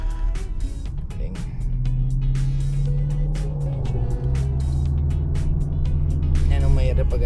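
Steady, heavy road traffic roars past from inside a car, with a continuous engine drone, repeated whooshes of passing vehicles and a voice talking over it.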